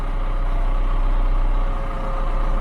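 A new MTZ-892.2 tractor's diesel engine idles loud and close, a steady low rumble running without interruption.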